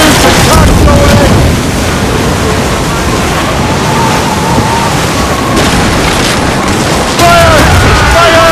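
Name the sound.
ship cannon fire and hits in video game Assassin's Creed Rogue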